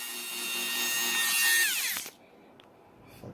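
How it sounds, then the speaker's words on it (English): Dremel rotary tool turned down to a reduced speed, cutting a car part: a steady whining drone with tonal harmonics that winds down and stops after about two seconds, followed by faint quiet handling noises. "basically what I did was just use the Dremel and we turn the speed down on this thing"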